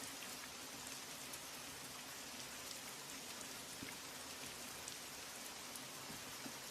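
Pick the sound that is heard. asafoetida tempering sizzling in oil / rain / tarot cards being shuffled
rain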